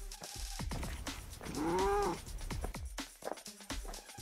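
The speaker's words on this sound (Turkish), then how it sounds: "Baba miyavlıyor." A cat meows with a rising and falling wail in a home setting, clear and fairly close, with children's voices and household noise around it.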